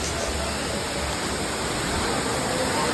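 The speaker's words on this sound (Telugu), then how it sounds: "ఇప్పుడు మీకు వాటర్ ఫాల్స్ చూపిస్తాను" Waterfall at the Akashaganga temple pouring steadily, a dense, continuous roar of falling water that fills the whole clip at a loud, even level without pause.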